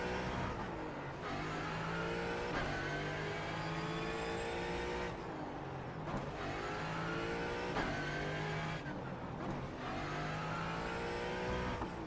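A race car in iRacing weaves to warm its tires, the engine droning loud and steady with repeated rising revs and brief throttle lifts roughly every few seconds, heard alone without talk.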